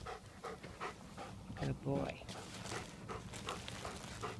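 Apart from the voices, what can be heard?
dog panting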